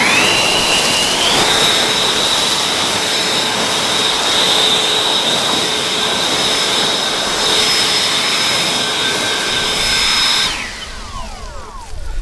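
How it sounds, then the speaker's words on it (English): An EGO Power+ LB6504 56-volt cordless leaf blower (650 CFM, variable speed) spins up into turbo mode with a rising whine, then holds a loud steady roaring whir for about nine seconds before cutting off and winding down. "I'm going to hit the turbo this time and demonstrate how that"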